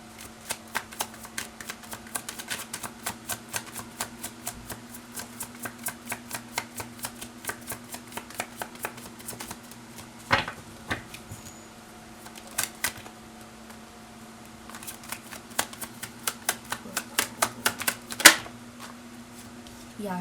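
Tarot cards being shuffled and drawn, heard as long runs of rapid riffling clicks with a few louder snaps, close and crisp, over a low steady hum.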